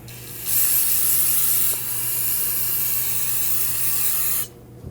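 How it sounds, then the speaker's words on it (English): A continuous aerosol spray of brake parts cleaner hisses steadily for about four seconds onto a 2001-2009 Volvo S60's front brakes, close and loud, with a brief interruption partway through. "clean that up with some brake parts cleaner. Just spray that down"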